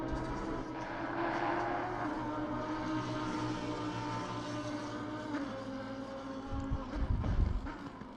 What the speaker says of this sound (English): I do like the sound of that motor in that car